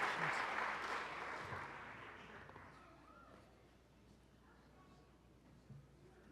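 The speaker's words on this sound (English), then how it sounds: "Let's give this group a round of applause as we pause for a photo" An awards-ceremony audience gives a group a round of applause, loud clapping at the start that fades steadily over the first few seconds and leaves quiet room tone.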